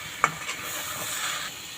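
Ridge gourd and egg being stirred and fried in a pan, a brief scrape of the spatula followed by a steady soft sizzle, close and fairly quiet.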